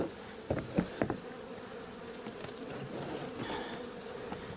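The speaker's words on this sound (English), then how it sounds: "Just some worker bees right now." Worker honeybees buzzing as a five-frame nucleus hive is opened, a steady close drone with a few louder wingbeat bursts early on.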